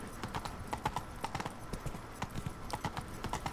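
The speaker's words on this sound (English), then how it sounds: "Clippity clop, clippity clop, clippity. Don't stop, horse." Horse hooves clip-clop at a brisk, steady trot in The Witcher 3: Wild Hunt, a close run of crisp knocks that continues without pause from start to finish.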